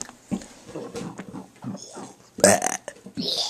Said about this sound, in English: I'm gonna make another burping video